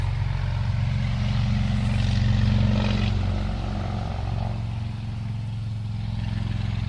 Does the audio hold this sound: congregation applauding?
no